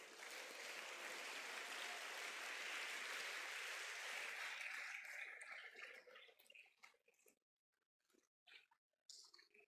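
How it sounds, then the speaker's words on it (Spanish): Church congregation clapping for the Lord, a dense sustained wash of applause that fades out and breaks into scattered claps and silence near the end. "Fuerte el aplauso al Señor."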